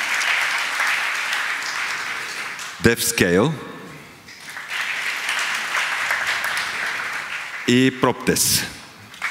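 An audience applauds nominees at a real estate awards ceremony. Sustained clapping fills the room while a presenter's voice briefly cuts in twice over it.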